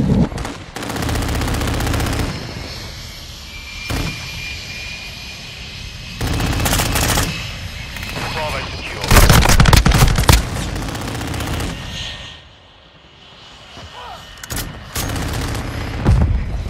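Automatic rifle fire from an M13 in a Modern Warfare 2 Domination match on Shoothouse, loud repeated bursts near the middle with scattered shots and a whining engine-like drone in the background.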